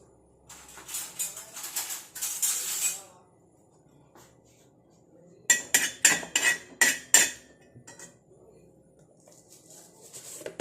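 Metal clinks and rattles as a pot is set down and cloves are dropped in to make hair oil. Two bursts of small, sharp taps and scrapes are separated by a pause, close and fairly quiet.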